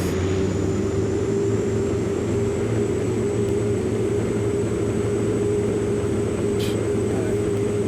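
A Pilatus PC-12 turboprop on its takeoff roll in the X-Plane 11 flight simulator, its steady engine drone and propeller hum holding loud and even throughout, with a brief voice faintly underneath.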